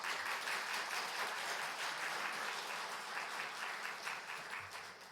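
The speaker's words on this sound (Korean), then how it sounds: "우리 나오실 때 환영의 박수 한번 할까요?" A church congregation applauds in welcome at a Sunday worship service, a steady dense wash of clapping that fills the room and then tapers slightly toward the end.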